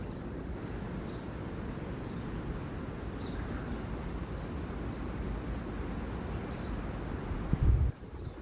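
Steady wind blowing outdoors in open natural surroundings, a continuous low broadband rush buffeting the microphone throughout, with a brief heavier gust near the end and no talking.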